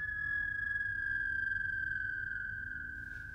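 A theremin simulator app holds a sustained high, pure tone that slides slightly in pitch, clear and steady and alone, with no talking.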